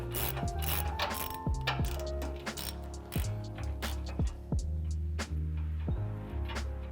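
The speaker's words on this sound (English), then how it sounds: "we're going to take an 18 millimeter to loosen up this nut for the sway bar" A ratchet with an 18 mm socket loosens the sway bar nut on a 2015-2020 Ford F150 during a suspension install, clicking in quick rapid bursts with short pauses, close and clear.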